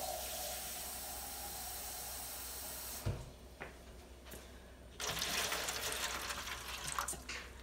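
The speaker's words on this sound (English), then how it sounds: "I'm going to put a little water." Water runs from a tap into an Instant Pot holding BBQ ribs, a steady hiss that cuts off abruptly, then a brief clunk and a second, louder burst of rushing water close to the microphone.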